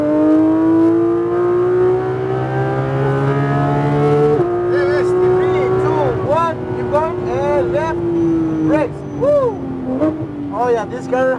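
Engine of a Porsche 911 GT3 RS on the Homestead-Miami track, rising in pitch as it accelerates, loud and sustained, with a brief gear change partway through and an instructor's voice speaking over it.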